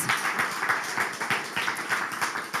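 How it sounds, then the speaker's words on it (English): An audience at the Climathon Bratislava 2022 awards ceremony claps in a dense, steady round of applause, many hands together and fairly close, with no voices standing out. "Round of applause, please."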